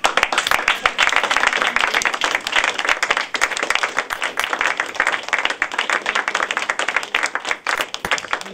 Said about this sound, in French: Je voudrais que nous les applaudissions de tout cœur.